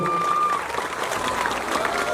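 An audience at a house-handover ceremony gives a dense round of clapping that fills the whole stretch at a steady level, heard over an amplified speaker's voice at the start.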